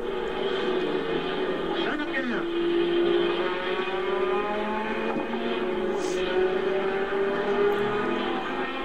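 Holden Torana A9X-era race cars run a mountain course, their engines droning and rising in pitch through gear changes at a moderate distance, with a voice talking over them.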